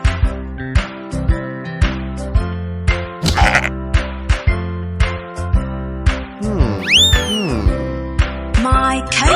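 Sheep bleat again and again, close and loud, in a repeating series of wavering calls with a few higher, longer cries near the end.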